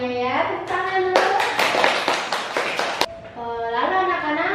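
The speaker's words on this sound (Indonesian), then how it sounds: "Tepuk tangan dulu." Primary school children in a grade 4 classroom clap their hands together in a quick, loud rhythmic burst lasting about two seconds, framed by a teacher's voice before and after.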